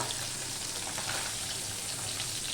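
Small fish fry in oil in a pan over a medium gas flame, giving a steady, close sizzle with fine crackling spatter that runs evenly throughout.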